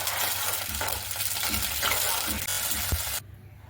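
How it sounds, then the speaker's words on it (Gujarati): Sugar and tempering simmering in a pan for Gujarati khaman, a steady close bubbling sizzle with soft stirring that runs for about three seconds and then cuts off abruptly. "થોડી ખાંડ ઓગળી જાય ત્યાં સુધી આપણે ઉકળવા દઈશું."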